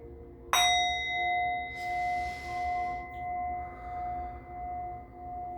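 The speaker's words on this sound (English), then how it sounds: "I'm going to go ahead and hit the bell at least one time just so we can cleanse the energy" A single bell struck once: a sharp metallic strike followed by a long, clear ringing tone that slowly fades with gentle pulsing over several seconds, heard alone.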